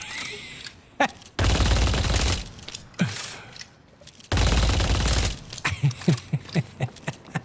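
A gun in the video game Deadlock fires in two sustained automatic bursts, loud and dense, followed by a string of sharp single shots with mechanical clicks between them.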